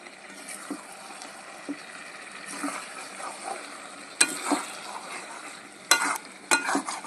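Egg chicken with Malabar spinach fries in a pan, giving a soft steady sizzle with spatula scrapes and a few sharper clacks of stirring against the pan.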